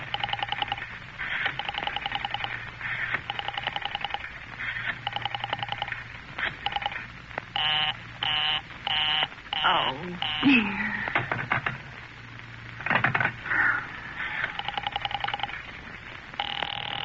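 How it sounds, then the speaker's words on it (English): Rotary telephone dialing in an old-time radio suspense drama, heard as a rhythmic sequence of clicking, ringing tones close up, with short bursts repeating over about seventeen seconds and no talk over it. "Operator, I've been dialing Murray Hill"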